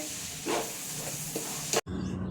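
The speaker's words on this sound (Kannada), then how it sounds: "ಈರುಳ್ಳಿ ಎಲ್ಲ ಹಾಕಿದ್ದೀನಿ, ಎಲ್ಲ ಫ್ರೈ ಆಗ್ತಿದೆ" Onions frying in a pan for lemon rice (chitranna), a close, soft steady sizzle with faint stirring clicks, cut off by a brief break near the end before resuming quieter.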